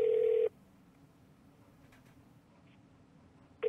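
Touch-tone telephone dialing in the video game Kentucky Route Zero: a loud sustained dual tone, a long quiet gap with faint background, then another tone starting at the end.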